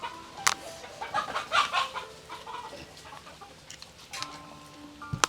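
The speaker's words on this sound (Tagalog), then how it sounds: "Mukhang maraming manok na native dito kaya JJ ah." Native chickens clucking close by, several birds calling in short bursts, with scattered higher squawks and faint farmyard background noise.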